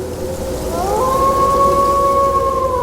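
A steady, tonal factory siren wail rises in pitch and holds, sounding distant beneath a constant hiss like rain or wind.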